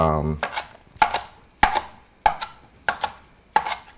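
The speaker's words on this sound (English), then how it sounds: "If you have extra herbs, chop it up" A knife chops fresh parsley on a cutting board in sharp, evenly spaced strokes, about six crisp close-up thuds at a steady rhythm with no talking.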